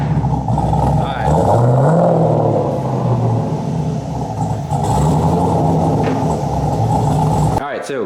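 An LS-swapped Hyundai Genesis Coupe with a new exhaust rumbles loudly up close, its engine revving up in a couple of rising swells and settling back to a throbbing idle, with a voice speaking over it.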